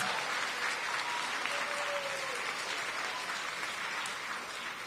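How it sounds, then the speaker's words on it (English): Students in a school audience applaud for a principal of the year event, a steady, dense wash of many hands clapping that holds at an even level throughout without talk. "Give yourselves a big round of applause."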